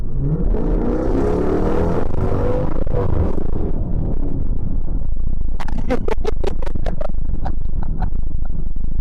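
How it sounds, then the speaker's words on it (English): A Jeep engine accelerating on a freeway, a loud close rising roar and whir of revving with strong road rumble, then a series of rapid sharp rattling bursts in the second half. "We'll give it a little gas here real quick."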